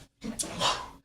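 A single sharp sneeze bursts out close by, followed by a breathy exhale, with a faint voice nearby.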